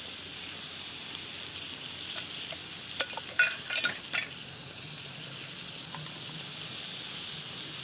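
Frankfurt sausages boil and bubble in water in a hot pan, a constant hiss with a few louder pops and clatters in the middle.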